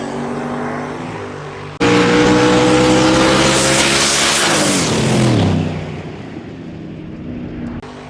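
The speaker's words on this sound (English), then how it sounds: "the Chevrolet is gone left-hand lane with the clear victory over the Mustang" Chevrolet and Mustang outlaw small-tire drag racers launch side by side at a drag strip, a steady engine drone jumping into a loud, sustained full-throttle roar that peaks and then fades as the cars pull away.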